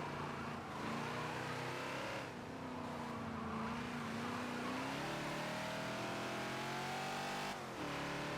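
A 1970s Ford Falcon XB racing around Spa in the Forza racing game, its engine droning and revving up and down steadily through throttle changes, loud and close without speech.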